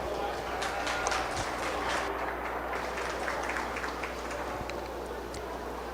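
Crowd applause for a 4-H/FFA sheep showmanship class at the Howard County Fair, a steady wash of clapping that fills the whole stretch and partly sits under a voice.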